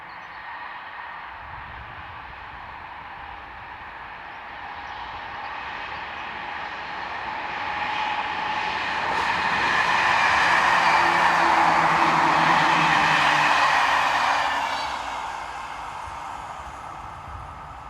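Train hauled by locomotives 327 and 434 heading north approaches with a steadily building rumble and rail noise, peaks loudly as it passes close by, then fades as it moves away.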